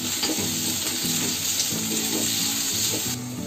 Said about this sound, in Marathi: हा कांदा टाकलाय ना तो आता मला चांगला लाल होईपर्यंत फ्राय करून